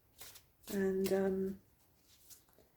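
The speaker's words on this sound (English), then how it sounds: "let's give my last deck a shuffle" A deck of tarot cards is shuffled by hand, one brisk riffling burst near and clear after a brief spoken word, then quiet.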